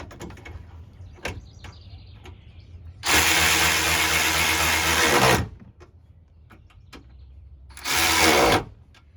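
Power tool driving the screws that hold the upper plastic trim on a 2007 Cadillac DTS, heard up close as a long, loud whirring burst of about two seconds and then a second, shorter burst, with quiet gaps between.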